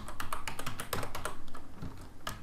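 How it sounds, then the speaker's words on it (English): Rapid keystrokes on a computer keyboard enter a command on a Cisco Layer 3 switch, a quick irregular run of close, crisp clicks that thins out toward the end. "the next thing we want to do is we want to type in interface"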